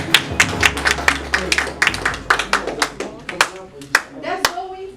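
Audience clapping at a live performance event, a short burst of quick, uneven hand claps close by, with a low hum underneath at the start.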